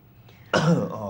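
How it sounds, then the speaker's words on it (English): A single throat-clearing cough bursts out close and loud after a quiet moment, then trails into a rough, lingering exhale during a poker night. "I've got a cough coming on"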